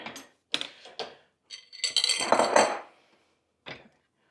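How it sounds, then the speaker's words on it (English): Spoon scraping and clinking against a pot while pudding is stirred on the stove, with scattered short scrapes and a longer rasping stir midway, close and fairly loud, no talking. "that's why you have to keep on stirring"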